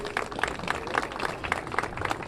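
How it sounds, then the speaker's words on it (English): A crowd applauds at the ribbon-cutting reopening for the Wonder Wheel's 100th anniversary at Coney Island, a dense, even wash of clapping hands with sharper individual claps standing out throughout. "So a huge, round of applause for the Wonder Wheel 100th anniversary."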